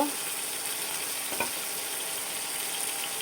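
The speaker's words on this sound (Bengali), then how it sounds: "চিকেনগুলো আমি ছোট ছোট করে কেটে নিলাম, ভেজে নিব। চিকেনের সাথে রসুন কুচি দিয়ে দিব" Small chicken pieces frying with chopped garlic give a dense, even hiss throughout, with a single brief stir or scrape midway.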